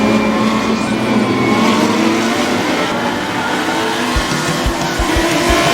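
Lamborghini Super Trofeo race cars roar at Sebring during a race, a loud steady wall of engine noise with tire squeal and low thumping bursts toward the end.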